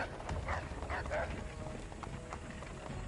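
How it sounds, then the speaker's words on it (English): Dogs in the Assassin's Creed 3 video game: brief yelps and barks amid running footsteps and clip-clop of hooves early on, fairly quiet, mixed with game ambience and voices. "Goddamn dogs."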